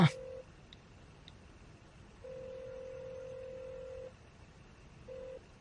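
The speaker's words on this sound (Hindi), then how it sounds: "प्लीज फोन उठाइए, फोन उठाइए ना।" A telephone rings unanswered, heard as a short electronic tone, a long steady ringback tone of about two seconds, then the start of another, with quiet gaps between them.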